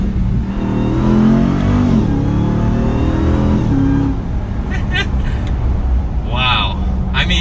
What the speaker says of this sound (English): We'll listen to that supercharger whine, because that doesn't get old.